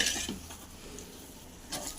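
A spoon scrapes and stirs sweet kesari bath with ghee in a pan, soft scraping strokes at the start and near the end over a faint background sizzle.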